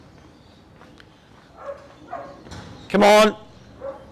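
Pet dogs, one named Max, give a short sharp bark with a few softer yips and whines around it, close by, while someone speaks briefly.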